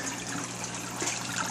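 Water pouring steadily through slotted overflow boxes into a drain pipe in an aquarium system, a continuous broadband rushing and trickling wash with no break.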